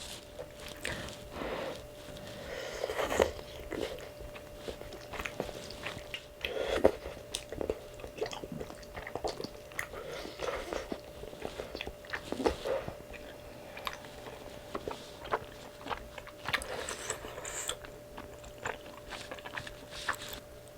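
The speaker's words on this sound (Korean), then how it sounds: "최대한 음미하면서 먹을 거예요." Someone eats mala rose tteokbokki, the chewy Korean rice cakes in a spicy creamy sauce, with soft, close, wet chewing and squishy bites repeating quietly for about twenty seconds, with occasional sniffs and no speech.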